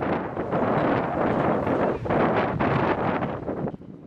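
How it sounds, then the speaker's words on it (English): Strong wind blowing through a valley in Bhutan, where prayer flags hang, buffets the microphone as a loud, steady roar for the whole stretch, with one short dip before it tails off slightly. "because it's a valley, the wind can be quite strong"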